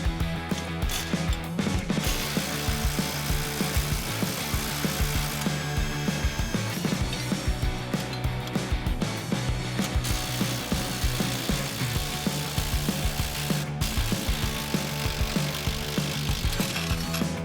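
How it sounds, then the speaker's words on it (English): An 18mm socket and wrench ratchet steadily while the lower shock bolts come off a 2007-2018 two-door Jeep Wrangler JK, giving a continuous rapid clicking pawl sound close to the mic with no talking. "we're going to start off by removing the lower shock bolts using an 18mm socket and wrench."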